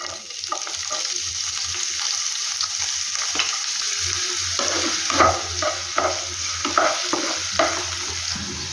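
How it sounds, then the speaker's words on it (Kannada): Chopped onion fried in hot oil in a pan gives a continuous close hiss, with intermittent scrapes and stirs that grow more frequent toward the end. "ನೆಕ್ಸ್ಟ್ ಈರುಳ್ಳಿ ಆ್ಯಡ್ ಮಾಡ್ಕೊತಿದ್ದೀನಿ"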